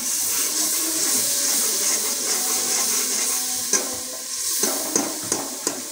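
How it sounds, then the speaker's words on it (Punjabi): Masala spices and potatoes fry in ghee in a pan with a steady, close sizzle, and a spoon stirring and scraping brings a few sharp taps near the end. "ਚਲੋ ਮਸਾਲੇ ਨੂੰ ਅੱਛੇ ਤਰੀਕੇ ਨਾਲ ਕਰਨੇ ਜੀ ਭੁਨਾਈ, ਜਿਹੜਾ ਘੀ ਬਿਲਕੁਲ ਉੱਪਰ ਆ ਜਾਵੇ।"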